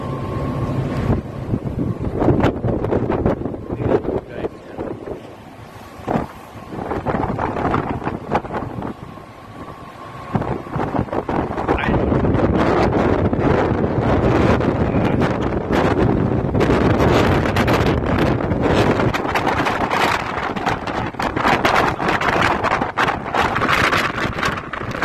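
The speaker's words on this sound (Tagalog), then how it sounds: "dito ang hangin lakas." Strong wind roars and buffets the microphone continuously on a ship's port side near Den Helder, Netherlands, with rumbling boat and sea noise underneath, growing louder and steadier midway.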